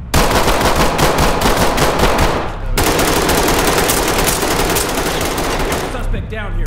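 Rapid automatic gunfire from the tactical shooter Ready or Not, loud and dense bursts filling the whole stretch with a brief break partway, the shots dominating while voices barely come through.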